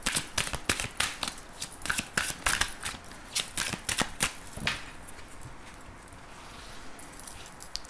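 Tarot cards are shuffled by hand before a reading, a rapid series of crisp close riffling slaps for about five seconds, then quieter soft handling of the deck with no talk.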